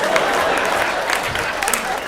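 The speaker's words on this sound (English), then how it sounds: "Yeah, you clap." Comedy club audience clapping and cheering at a stand-up show, a steady, dense burst of applause from the crowd filling the room for about two seconds.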